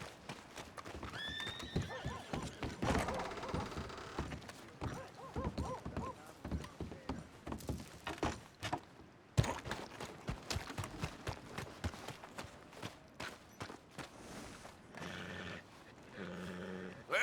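A horse in the video game Red Dead Redemption 2 whinnies loudly near the start, then hooves clip-clop in uneven bursts with thuds and scuffles. The sounds are fairly close amid game noise, and there is no clear speech.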